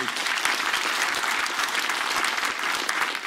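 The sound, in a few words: applause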